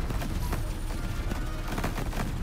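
Enemy gunfire in the space shooter game CYGNI: All Guns Blazing crackles as a dense, rapid barrage of shots and blasts, loud and unbroken across the whole stretch.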